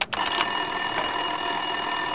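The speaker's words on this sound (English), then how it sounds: "Winterson's phone was ringing." Office desk telephone ringing in the video game Max Payne 2, a steady electronic trill holding without pause after a brief opening click, loud and close with no talk over it.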